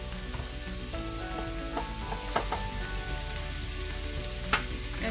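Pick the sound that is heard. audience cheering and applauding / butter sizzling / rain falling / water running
butter sizzling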